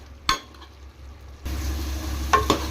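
Masala sizzling in oil in a pan for Nellore-style brinjal tamarind curry, a steady low frying hiss that grows louder partway through, with a couple of sharp stirring scrapes near and clear.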